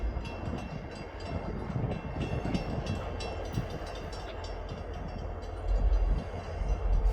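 Train rolling past a crossing in a no-horn zone, a steady rumbling roar with rattling wheel clatter, close and sustained, swelling slightly toward the end.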